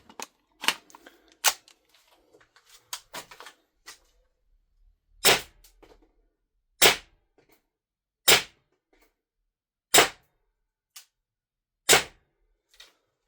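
A VMP-2S airsoft gun fires about six single test shots, sharp loud cracks spaced roughly one to two seconds apart, preceded by quieter mechanical clicks and handling noises.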